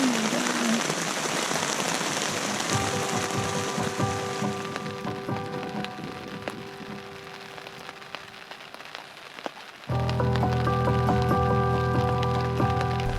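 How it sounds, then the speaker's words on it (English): Pouring rain drums steadily on a wilderness camp during a long canoe expedition, loud and dense throughout, with tonal hums joining partway through. "Nothing beats taking down camp in the pouring rain."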